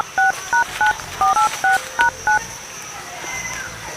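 Telephone keypad dialing, eight quick DTMF tone beeps in uneven rhythm, close and clear, followed by a quiet pause.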